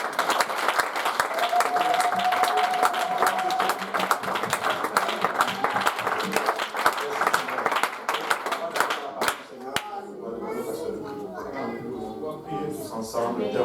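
Congregation applauding during a church service, steady dense clapping with music and voices mixed in, thinning out toward the end as the sound grows sparser.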